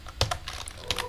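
Fingers typing Android code on a computer keyboard, a short burst of several crisp, close key clicks at an uneven rhythm, with no voice over them.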